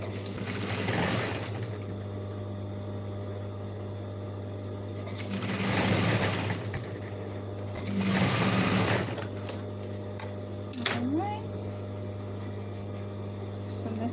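A sewing machine stitching a denim jeans bag runs in several short bursts of rapid mechanical whirring, separated by pauses filled with a low steady hum.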